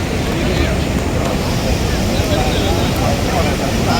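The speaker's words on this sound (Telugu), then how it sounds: "నీకు వాటర్ ఫాల్ కనిపిస్తాయి." Athirapally waterfall in Kerala roars as a loud, steady, unbroken rush of water, filling the whole scene evenly from start to finish, with some wind-like buffeting on top.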